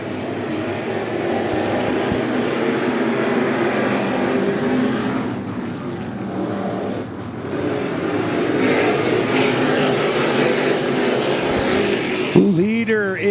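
Race cars circling at Claremont Motorsports Park, engine roar rising and falling steadily from mid-distance, with a commentator talking over the noise throughout.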